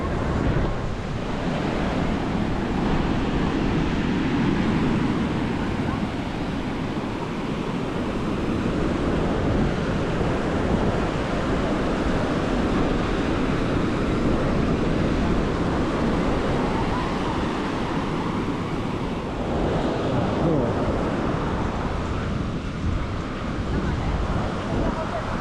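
Ocean waves roll in on Kamala Beach, Phuket, as a continuous, loud wash of surf blended with gusty wind buffeting the microphone, holding steady without a break.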